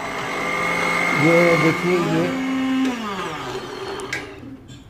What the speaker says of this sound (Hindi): ये ब्लेंडर के साथ इसको पीस लिया